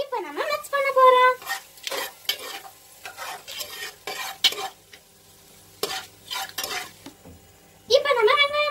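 Fennel seeds and cinnamon are stirred in hot oil for a spinach biryani, giving close, rhythmic scraping strokes over a light sizzle, with a voice speaking at the start and end.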